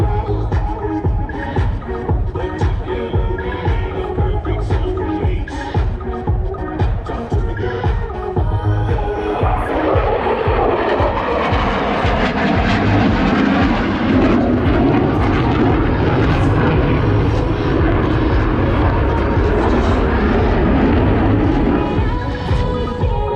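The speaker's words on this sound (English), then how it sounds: "F-16 through a series of aileron rolls, demonstrating its exceptional roll maneuverability." An F-16 Fighting Falcon fighter jet flies aerobatic aileron rolls at an air show demo, its loud roaring engine holding throughout and shifting in pitch as it passes overhead.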